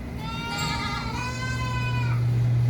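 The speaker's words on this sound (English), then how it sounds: "Stupid goats, and they're so annoying." Goats on a farm bleating in drawn-out, wavering cries, two or three overlapping calls close by, over a steady low hum of background noise.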